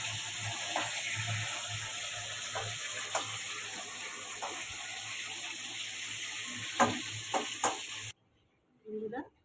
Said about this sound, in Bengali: লাল লাল করে ভেজে নেবো সমুদ্রের মাছ।